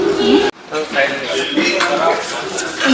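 Plates and a spoon clink at a restaurant buffet during a Poila Baisakh celebration, short dishware knocks and chinks scattered across a busy room with people talking around them.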